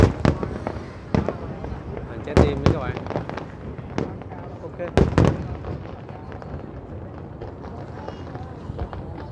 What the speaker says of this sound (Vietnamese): có thêm pháo bông nữa